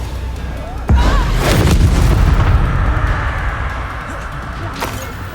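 A Confringo blasting spell from Hogwarts Legacy erupts in a loud, booming explosion that strikes suddenly and rumbles on with crackling debris and a second burst, with game combat noise around it.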